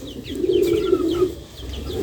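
Pigeons coo in a loft on a pigeon farm as they settle in for the night: a steady, low, throaty cooing runs through the clip, with faint higher chirps above it and no talk.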